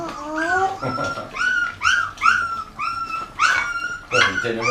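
Puppies whimper and yip in high, sliding cries at feeding time, a rapid string of close, plaintive squeals with a few short gaps between.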